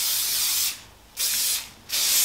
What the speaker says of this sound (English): I'm gonna put a little bit of hairspray in just to help kind of lock things.